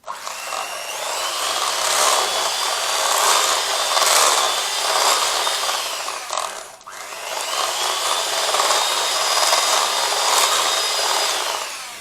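A food processor whizzes a lemon drizzle cake mixture of butter and cold milk, a loud steady whirring motor in two bursts split by a short pause, with no talk.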